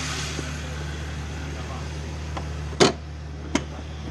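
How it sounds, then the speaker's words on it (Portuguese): The hood of a Ferrari F12 Berlinetta pushed shut: one sharp, solid thud against a steady low hum, followed a moment later by a softer second knock. "Fechar o capô dela."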